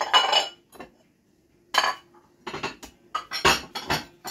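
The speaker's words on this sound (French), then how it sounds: "j'ai de la petite vaisselle à ranger" Dishes and cutlery clink and clatter in several short bursts, close by, with pauses between handlings.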